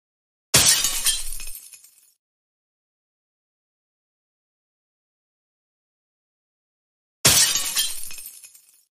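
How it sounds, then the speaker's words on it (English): Window glass smashes in two separate bursts several seconds apart as objects are thrown at a house's windows, each a loud crash trailing off into tinkling shards, with silence between. "I am going to use them to throw at his windows."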